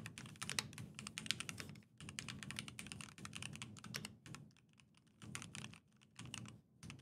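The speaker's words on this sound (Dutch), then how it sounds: "nu lijkt het natuurlijk alsof ik met een of andere heftige typemachine bezig ben" Keys clatter on a Keychron Q3 Pro mechanical keyboard in quick, dense bursts of clicks separated by short pauses. The typing sounds close and fairly quiet, with a slight room echo and no voices.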